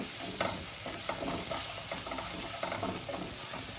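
Chole masala fries in oil in a pan, a constant close sizzle broken by soft, repeated stirring scrapes, with no voices.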